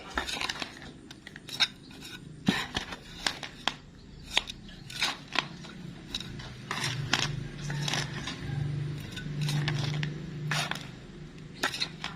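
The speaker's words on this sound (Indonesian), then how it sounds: "kemudian kita aduk secara merata" Plant growing medium for saeng simbur (Ludisia orchids) being stirred evenly: repeated sharp scraping and clinking strokes at an irregular rhythm, close by, with a faint low hum underneath and no talk.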